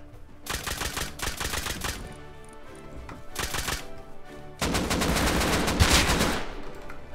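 Sustained bursts of automatic rifle fire in the survival video game Rust, loud and close, with three long volleys separated by short gaps and no talking.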